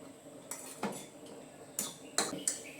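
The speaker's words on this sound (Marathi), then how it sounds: "आपण या काट्या चमच्याने मस्तपैकी मिक्स करून घ्यायचं आहे" A fork clinks and scrapes against a bowl as corn kernels are mixed, producing a few sharp, close metallic taps spaced irregularly over a quiet background.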